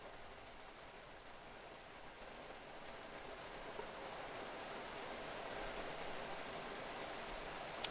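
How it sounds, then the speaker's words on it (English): Steady rain falls in a soft, even hiss that continues unbroken throughout, faint and distant with no voices over it. "It's raining again."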